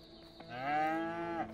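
A cow moos once in the farm scene of the video game A Way Out, a long, loud, drawn-out low call on its own after a brief soft lead-in.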